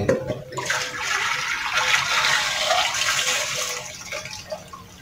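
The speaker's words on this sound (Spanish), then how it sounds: "se va a ir la pura agua, no se va a ir la tierra" Water rushes steadily out through a ring-guarded drain opening set into backyard soil prepared with gravel and mesh beneath a floor, a continuous close, loud gushing flow lasting the whole five seconds with no talk.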